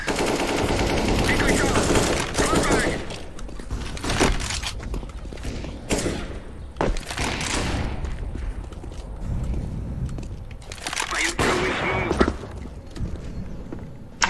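Rapid gunfire from the video game CS:GO, bursts of automatic weapon shots and single cracks recurring through the match, loud and close, mixed with game sounds and occasional voices.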